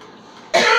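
A single loud, close cough bursts out suddenly after a moment of quiet room tone, from an adult who has had a lingering cough for about a month.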